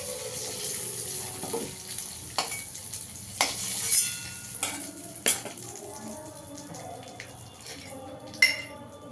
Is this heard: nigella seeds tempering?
yes